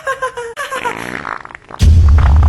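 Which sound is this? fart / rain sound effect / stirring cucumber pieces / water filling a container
fart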